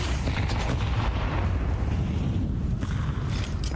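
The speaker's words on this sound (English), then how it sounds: "That's a good nade." A grenade blast in Counter-Strike, a dense roaring rumble that fills the whole clip, heavy and sustained rather than a single sharp crack.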